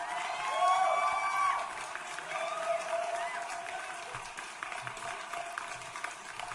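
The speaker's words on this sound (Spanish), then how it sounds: "vamos a poner los aplausicos para Davilón" Recorded applause and crowd cheering played as a sound effect, a dense burst of clapping that swells loudest in the first second and a half, then eases to a steady patter until the end.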